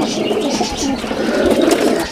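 Roller pigeons coo continuously at close range, a dense overlapping murmur of soft throaty calls with a few higher chirps throughout.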